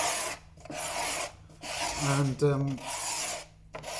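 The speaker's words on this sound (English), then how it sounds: "might as well sand this now" Hand sanding of a wooden door after it was scraped flat, heard as steady rasping strokes in bursts with short pauses between them, close and fairly loud. A brief spoken word and some voice-like tones occur partway through.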